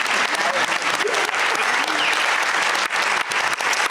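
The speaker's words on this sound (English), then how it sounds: "Big round of applause to all of our panelists." An audience at a museum civic event applauds the panelists with steady, dense clapping throughout, full and close with slight crowd murmur beneath it.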